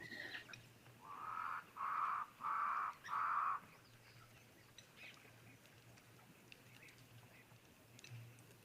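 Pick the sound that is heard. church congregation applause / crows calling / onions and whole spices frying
crows calling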